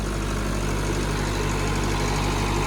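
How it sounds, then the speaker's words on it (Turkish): A 46 kVA generator driven by an 82 hp Perkins four-cylinder engine, the kind fitted to Massey Ferguson 265 tractors, idles steadily with a deep, even diesel rumble and constant vibration, close and loud throughout. "Jeneratör ise 46 kahvalık bir jeneratör. Güzel rolente bir şekilde zorlanmadan çalışıyor"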